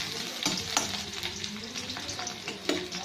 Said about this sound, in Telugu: వేయించుకున్నాం, ఎర్రగా వేగనిస్తాం అన్నమాట